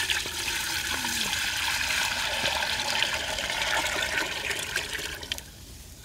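A steady stream of about 1.5 litres of water runs and splashes continuously into a cooking pot in a village kitchen, a full rushing pour that eases slightly near the end.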